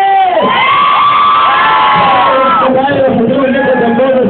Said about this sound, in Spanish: ¡escuchen el grito de las mujeres!